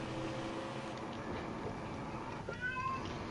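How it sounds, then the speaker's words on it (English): A cat meows near the end, faint and brief against a steady rumbling background noise, with nobody talking. "that stinking cat again"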